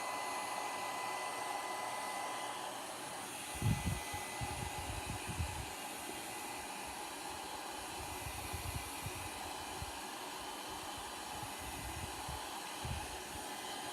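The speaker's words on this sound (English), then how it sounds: "Now I'm going to just blow dry it with my low setting." A hair dryer on its low setting blows steadily, drying chalk paste on a bear-themed travel pillow, a constant even whoosh with some soft handling bumps and rustles partway through, nearby and moderately quiet.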